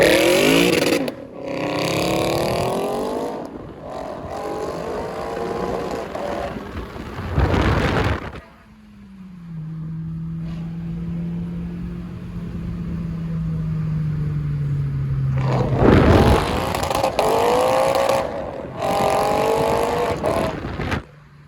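A Lexus RC F fitted with titanium mufflers accelerates hard, its exhaust rising through the gears with loud revving bursts, then a long steady drone before another sharp, roaring surge, heard from inside the car.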